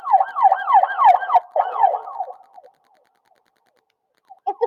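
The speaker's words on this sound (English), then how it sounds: "It's a police siren, which means an emergency." A police siren wails in a rapid rising-and-falling pattern, loud and close, then cuts out briefly, resumes for a moment and fades, leaving near silence with a faint blip at the end.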